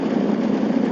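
Kawasaki Mean Streak motorcycle engine running with a steady, even drone, close and loud throughout the second with no pauses or voices.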